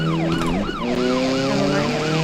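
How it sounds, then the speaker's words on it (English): Police car siren in the driving game BeamNG.drive, wailing loud and close in a fast, repeating rise-and-fall cycle, alone with no talking. "now the police are pursuing me"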